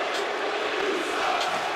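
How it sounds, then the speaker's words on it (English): A wrestling event crowd roars in a sustained wash of cheering and shouting, loud and diffuse, with a few sharper yells rising briefly out of the steady din. "listen to that crowd reaction"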